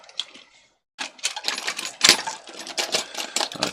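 Metal Allen keys clatter and jingle in a rapid, busy rattle as someone rummages through them nearby, following a brief quieter pause.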